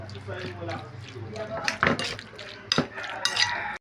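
A utensil stirs stir-fry pork seasoned with salt, sesame and flour in a pan, giving soft scraping and clinks that grow into several sharper metallic knocks toward the end.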